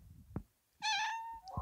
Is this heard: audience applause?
no